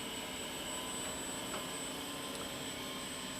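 The rotor of a wind turbine nacelle training system spins up, giving a steady mechanical whine and hum that holds evenly throughout with no other sounds.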